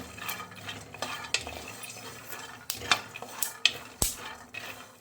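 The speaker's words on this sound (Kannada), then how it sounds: "ನೋಡಿ ಪಟ ಪಟ ಅಂತ ಸೌಂಡ್ ಬರ್ತಾ ಇದೆ" Spiced masala peanuts frying in a pan while being stirred, with a steady low sizzle broken by scattered crisp pops, crackles and utensil clicks against the pan, close and fairly quiet.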